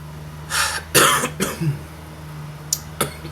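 A few harsh coughs in a quick cluster, then two short, sharper coughs a moment later, close to the microphone with a low hum underneath.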